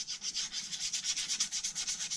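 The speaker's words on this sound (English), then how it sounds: "take a sandpaper and just rub the surfaces" Sandpaper scrubbed back and forth over the corroded surfaces of a Yanmar 3HM35F engine: about a dozen quick, even rasping strokes in a steady rhythm, close and fairly quiet, with no talking.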